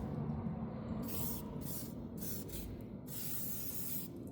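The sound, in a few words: spraying cleaner on motorcycle chrome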